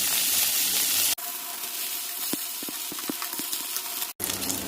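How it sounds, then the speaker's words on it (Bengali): Dried fish (shutki) fries in a pan with a steady close sizzle and hiss, broken by a few sharp pops and two brief dropouts. "এখন শুটকিগুলো ভেজে নিব।"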